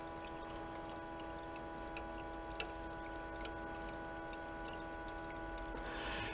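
Water overflows and runs back into the reservoir of a broken portable ice maker, a steady trickle under the machine's constant hum.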